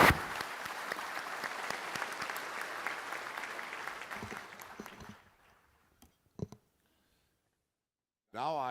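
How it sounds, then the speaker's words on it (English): Audience applause for Premier Li rises at the opening session of the Davos summer summit, dense and steady for about five seconds, then dies away to near silence, leaving a few stray claps and a brief voice. "please give another round of applause to Premier Li."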